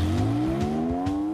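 A Porsche pulls away hard from a standing start, its engine note climbing steadily in pitch through a loud, close, continuous acceleration with a few gear-like pulses underneath.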